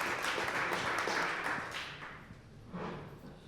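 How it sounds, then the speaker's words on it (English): A meeting audience at a small business gathering claps together in a dense, sustained round of applause that swells early, tapers off, and is picked up again briefly near the end. "let's give him another round of applause for everything he's done for us"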